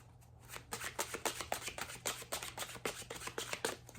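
Tarot card deck being shuffled up close, a quiet run of crisp riffling bursts repeating in quick rhythm.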